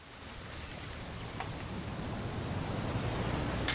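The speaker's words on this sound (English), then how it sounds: "It's gonna rain the whole weekend, isn't it?" Rain falls steadily in the video game What Remains of Edith Finch, a soft continuous hiss with scattered drops that grows gradually louder.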